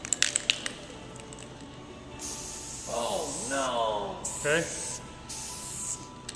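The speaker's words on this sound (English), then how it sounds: "This can of spray paint is a very legitimate can of spray paint." A Valspar spray paint can sprays in steady hissing bursts, with a couple of separate blasts and short pauses, close and fairly loud, while people talk and exclaim over it.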